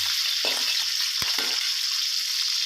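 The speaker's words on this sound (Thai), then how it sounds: "เบคอนนะครับ ลงไป ทอดกับน้ำมันนะครับ" Bacon frying in oil in a pan, a steady bright sizzle with a couple of soft stirring scrapes and a sharp tap, close and continuous with no voice over it.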